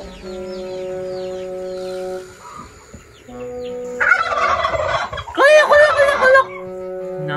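Turkeys gobble close by, loud rapid bursts of warbling calls, with steady droning tones in the background and a person speaking briefly between the calls.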